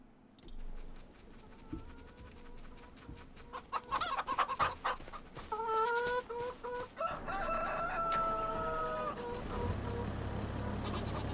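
Chickens in Farming Simulator 25 near a grain trailer: repeated clucking, then a loud rooster crow ringing out over a low steady farm background, with no voices.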